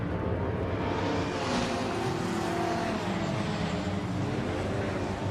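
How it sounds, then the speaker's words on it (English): A BMW engine revving hard in a racing video game, a continuous droning roar held steadily throughout, with engine pitch shifting slightly and no talk. "I've been thrashing your BMW, mate."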